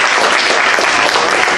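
An audience at a comedy club sidestage show bursts into loud, dense applause, many hands clapping at once in a steady, sustained roar.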